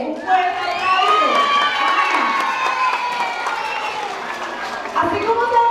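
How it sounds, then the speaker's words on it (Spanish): Children shouting and cheering with clapping mixed in at a school Christmas play of The Nutcracker, excited high voices rising and falling over scattered applause, with a fresh burst of cheers near the end. "Un fuerte aplauso."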